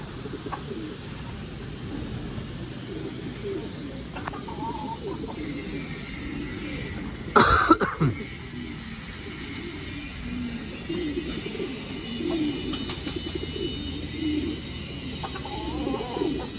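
Soft, low pigeon coos repeat through the clip over outdoor background noise, with a brief loud rustle or bump near the middle.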